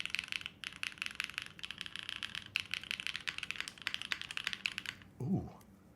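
Typing on a top-mount mechanical keyboard with mid plate foam, rapid close clacky keystrokes in quick bursts, then a brief low vocal sound at the end.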